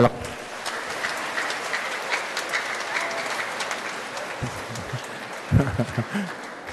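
A church congregation claps during a homily, a steady broadband patter of many hands throughout, with a brief burst of voices and laughter near the end.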